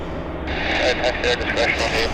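A WestJet airliner rumbles at Vancouver airport, a low steady engine roar under a person talking close by.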